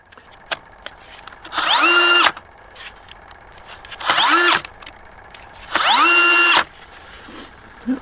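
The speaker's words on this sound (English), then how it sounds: "So, let's drill a hole." A cordless hammer drill bores through ice in three separate bursts, each spinning for about a second before stopping, loud and close with quiet gaps between.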